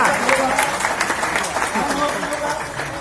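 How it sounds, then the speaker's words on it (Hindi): Audience applause at a Gwalior talk by a former State Bank of India chief manager, a dense steady wash of clapping throughout with some voices mixed in. "तालियां।"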